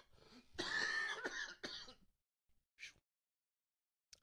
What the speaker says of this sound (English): I can't do that kind of coughing